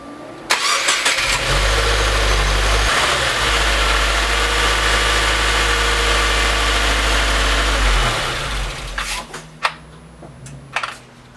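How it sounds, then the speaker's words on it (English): A Subaru WRX engine cranks and catches, then settles into a steady, loud idle for several seconds before shutting off. A few clunks and knocks follow as the car goes quiet. "So I'm going to turn on the car"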